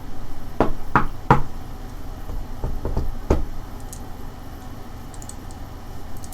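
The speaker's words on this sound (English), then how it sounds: "You go to knock." Sharp knocks on a door come in two clusters, three quick raps followed by a second group of three, close and distinct, before a quieter room tone with faint high clicks.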